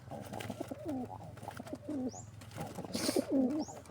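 Pigeons in a loft give repeated low, throaty coos, several bubbling phrases in a row at moderate distance, with faint higher chirps now and then and a soft steady background hum.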